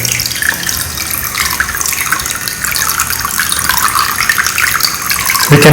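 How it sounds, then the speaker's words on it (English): Water running in a DIY battery-operated indoor fountain, a steady close splashing gush like a tap pouring into a basin, continuous and fairly loud, with no speech. "Now let's switch on the fountain and see how it is going to work."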